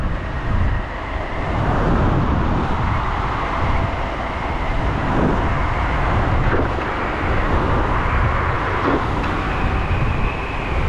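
Continuous wind and road rush from an electric scooter ridden at full speed on a highway among traffic, a steady loud roar with faint passing vehicle swells throughout.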